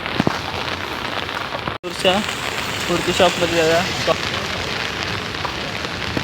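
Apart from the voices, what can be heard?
rain falling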